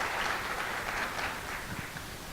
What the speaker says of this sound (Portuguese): recebam o Pierre com uma salva de palmas